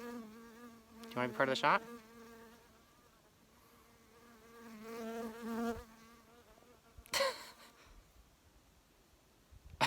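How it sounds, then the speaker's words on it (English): A bee buzzes close to a camera during an outdoor field trip over rocky soil, its drone swelling loudly several times as it circles near, with one brief spoken line. "that is a bee that's checking out my camera"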